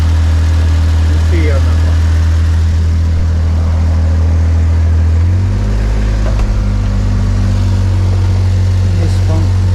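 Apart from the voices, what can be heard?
1995 Mitsubishi Minicab kei truck 3-cylinder engine idling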